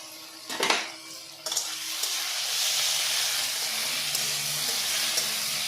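Tomato chutney with egg, salt and turmeric is stirred in a pan, starting with a clatter of utensil on metal. A steady frying sizzle follows and stays even to the end, with no talking.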